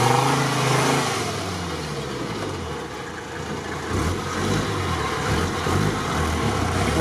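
A GAZ-69 off-roader fitted with a Mercedes engine drives along, heard from inside as a steady mid-pitched engine drone that dips, then rises again under acceleration, with no talking.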